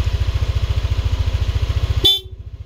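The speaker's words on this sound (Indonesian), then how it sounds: "klakson nyala" A Yamaha NMAX scooter engine idles with a steady rapid thump, then a single short horn blast sounds close by as the engine note drops.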